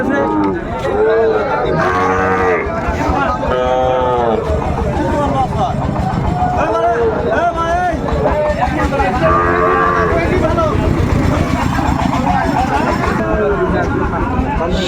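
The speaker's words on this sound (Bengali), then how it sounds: "শাহিওয়াল সার বাচ্চা আমরা দেখছিলাম" Sahiwal bull calves at a busy cattle market in Dinajpur moo repeatedly amid continuous crowd babble and people talking nearby, with the calls loud and layered over a constant background din.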